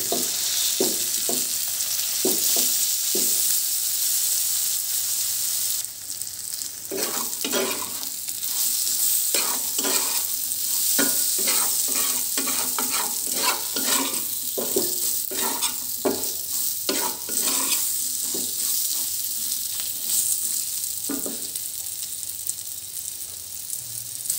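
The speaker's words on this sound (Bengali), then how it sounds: "তো দেখতে পাচ্ছেন পটল ভাজাগুলো হয়ে গিয়েছে" Pointed gourd (potol) slices frying in oil in a pan, with a steady sizzle broken by repeated scraping stirs of a utensil, close and fairly loud, and no talking.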